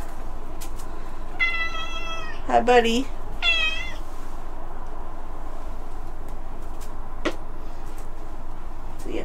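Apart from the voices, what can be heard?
cat meowing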